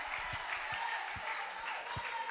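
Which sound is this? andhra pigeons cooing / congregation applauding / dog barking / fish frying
congregation applauding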